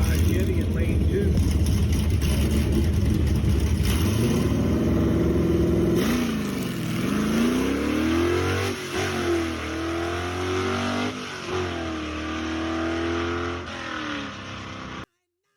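A 1955 Chevrolet Bel Air, Doug Schwartz of Hermann, Missouri at the wheel in lane 2, revving loudly at a drag strip, the engine note rising and dropping in repeated surges before cutting off abruptly at the end.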